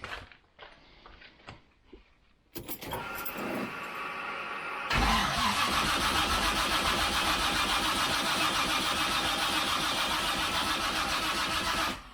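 A newly installed car engine cranks briefly, then catches and settles into a loud, steady mid-pitched running idle that continues to the end.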